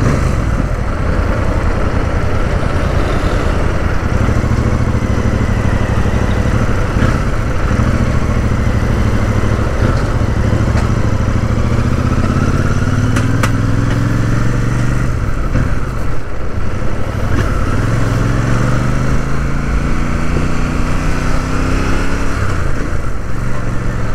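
Royal Enfield Super Meteor 650 twin-cylinder motorcycle engine, heard steadily and loudly throughout with a rising, revving drone as the throttle opens, accompanied by road and wind noise and no talk.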